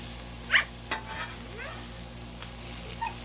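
Mushrooms sizzling on a griddle, giving a steady soft hiss with a few brief clicks and scrapes, fairly quiet and with no talking.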